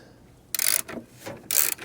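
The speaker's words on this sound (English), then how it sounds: "We'll just cinch this bolt down." A ratchet wrench cinches down a shackle bolt on a Jeep during a shackle relocation bracket install. Two close, loud bursts of rapid ratcheting clicks are separated by quieter handling sounds, with no talking.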